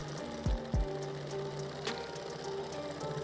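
A sewing machine stitches hat fabric to tidy the seams, its steady mechanical whir running throughout with a couple of brief heavier knocks early on, close and moderately loud with no talking.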